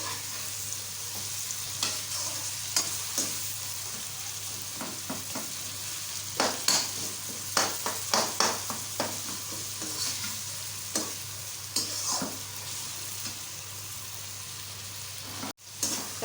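Tomatoes sizzling steadily in a pan, salted and softening, while a spoon keeps stirring and mashing them, giving a run of close, irregular scraping knocks over the continuous frying hiss.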